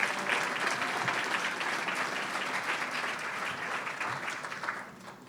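Steady applause from a banquet audience at a 20th anniversary celebration, thanking event sponsors; dense, even clapping holds throughout and eases slightly near the end.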